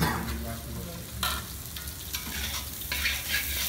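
Ghee sizzles and crackles in a frying pan, a steady close hiss broken by brief scraping stirs at irregular intervals, with no voices.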